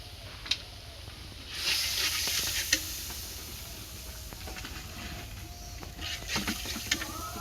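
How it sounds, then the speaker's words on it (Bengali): Small pabda fish sizzle in hot oil in a pan, a steady hiss with a louder surge after they go in, and a few faint clicks on top. "মাছ দিয়ে দিছি।"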